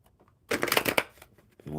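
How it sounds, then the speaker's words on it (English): A burst of rapid riffling as a deck of playing cards is shuffled, fairly close and loud, with quieter voices or background noise before and after. "Shuffle these up really good."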